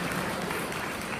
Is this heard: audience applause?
yes